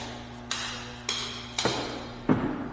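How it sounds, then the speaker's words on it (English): A hammer smacks the end of a screwdriver to drive the core out of a Lane silencer: four sharp metallic strikes, spaced about half a second apart and the last one the loudest, close up with no talk. "And you just smack the end of that screwdriver and drive that core out the front."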